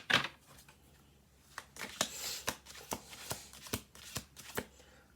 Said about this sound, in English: We're going to do like 3 more shuffle throughs here.